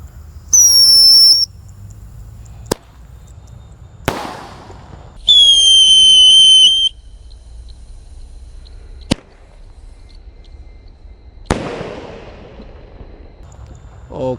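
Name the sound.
whistling firework launching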